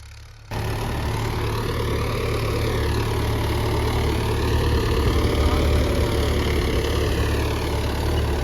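A jeep engine idles steadily at close range, a continuous low rumble with even mechanical vibration that starts abruptly after a brief quiet moment and holds constant throughout, with no talking over it.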